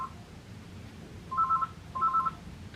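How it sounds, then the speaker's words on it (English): A telephone rings in a craft shop, two short electronic trilling bursts about half a second apart, fairly faint against quiet room background. "That'd be the phone."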